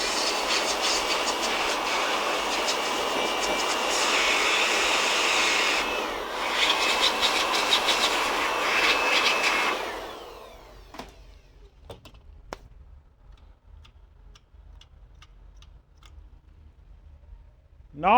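Blower running during an HP Compaq Presario CQ57 laptop board repair, a loud steady rushing roar for about ten seconds that then stops, leaving quiet with scattered faint clicks.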